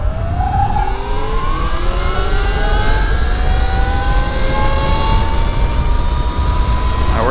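An E-Ride Pro S electric bike accelerating flat out on a top speed run, a loud whining motor tone rising steadily in pitch over rushing wind noise.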